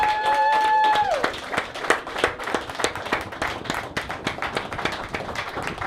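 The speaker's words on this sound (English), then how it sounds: "Can we have a round of applause" A room of people at a live talk event breaks into applause after a short whistle-like tone, with dense, steady clapping that continues to the end, fairly close and full.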